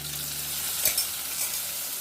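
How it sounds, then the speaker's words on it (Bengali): Mushroom masala frying in a pan, with a splash of water added; a steady, loud sizzle runs throughout, with a brief sharper hiss and clatter near the middle. "মশলার বাটিটা ধুয়ে একটু জল দিয়ে দিচ্ছি"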